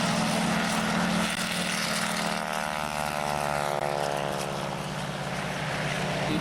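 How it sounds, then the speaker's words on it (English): An SNJ trainer and a Dauntless dive bomber, both propeller planes, take off at a beach air show, their engines roaring loud and close with a shifting pitch as they climb away. "The Dauntless and yet another SNJ taking to the sky once more."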